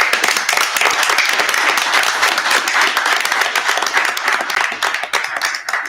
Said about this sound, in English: I think they both need a round of applause